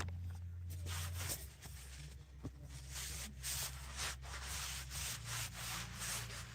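Steady close-up rubbing and swishing of a microfiber cloth over a wooden spoon, continuous strokes with a low hum in the background.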